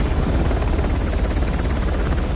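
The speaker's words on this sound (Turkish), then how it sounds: "Helikopter de öyle bir yerde durdu ki" A helicopter in the video game Uncharted hovers close and loud, its rotor thumping in a steady dense drone that continues unbroken with no voices over it.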